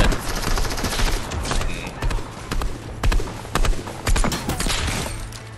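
Burst-fire weapon in a shooter video game, repeated quick clusters of close, punchy shots over a constant busy background of game noise.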